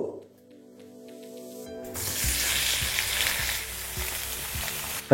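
Mango pieces for a sweet pickle drop into hot oil seasoned with panch phoron. Soft background music gives way to a sudden loud, sustained sizzle, with a few dull knocks from stirring.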